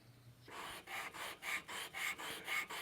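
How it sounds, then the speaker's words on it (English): Hand sanding softwood end grain on an archtop guitar headstock, a close rhythmic rasp of about seven even back-and-forth strokes with brief pauses between them, heard alone. "sometimes when you're sanding softwood end grain"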